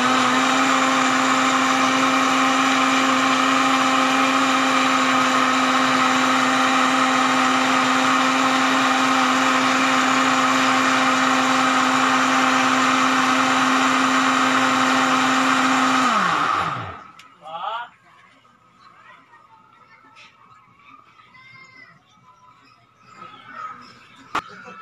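A blender grinding food runs steadily at full power, loud and close, then winds down and stops, leaving faint background noises and a few light clicks.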